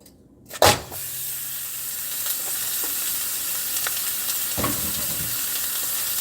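Medium ground beef is dropped into a pan with a loud thump, then sizzles steadily and briskly, frying in its own fat with no voices.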